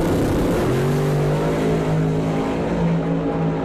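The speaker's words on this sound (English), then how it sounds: "Joe Delahaye drops the hammer, shuts the car down" A drag racing car at the Doorwarz 9 event roars at high power, its loud, sustained engine note holding steady and then rising in pitch as it launches down the strip, with no talking.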